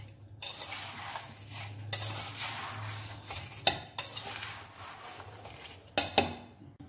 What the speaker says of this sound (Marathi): लिंबाच्या फोडींना साखर आणि मिठामध्ये गोळून घेऊया